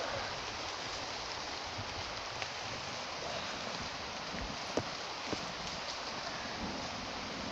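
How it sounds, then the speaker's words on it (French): Rain falls steadily as a soft, even hiss that stays faint throughout, with a few light taps and knocks standing out now and then. "mais il pleut là"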